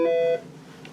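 Button press on a Norstar MICS business phone answered by a short electronic beep, a steady tonal chirp lasting about a third of a second, close and clear, then quiet room noise.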